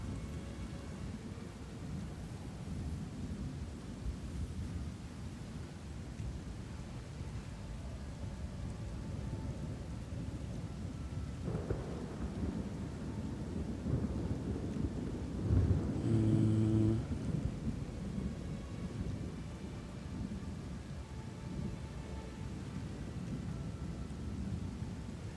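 Thunder from the Herald of Thunder skill in Path of Exile 2, a broad rumbling crackle under a steady rain-like wash, swelling briefly midway.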